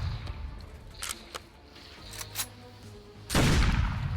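Plasma pistol shots in the video game Hypershot crack out in scattered single bursts, followed by a louder, sustained blast near the end, with no voices over them.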